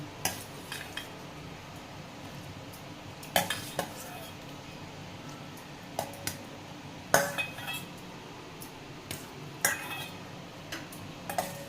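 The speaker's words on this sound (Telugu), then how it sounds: "ఇవి తీసి బౌల్లోకి వేసేసుకుంటున్నాను" Boiled drumsticks being lifted from a pot into a bowl in a home kitchen, giving sparse clinks and taps of utensil against vessel over a quiet low hum, about a dozen separate sharp knocks.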